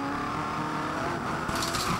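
NZV8 V8 race cars passing on the Manfeild circuit, a steady engine drone at moderate distance with a brief harsher burst near the end, and no speech.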